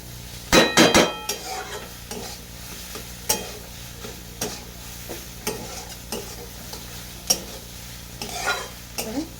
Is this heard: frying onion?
yes